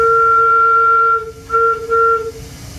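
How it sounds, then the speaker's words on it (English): A Big Boy-type steam locomotive whistle at a museum blows loud and close in two sustained, chord-like tonal blasts with a brief gap between them. "Like a big boy's whistle."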